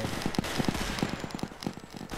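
A flak cannon being destroyed in the video game Zeppelin Wars gives off a rapid burst of crackling, popping explosions, close and fairly loud, over a steady background rumble.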